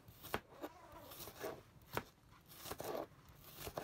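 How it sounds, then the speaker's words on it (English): A knife slicing an onion on a cutting board while camping at Shaver Lake: a series of faint, crisp, irregular cuts, about eight sharp clicks over four seconds, quiet and close. "This is how I cut my fine onion."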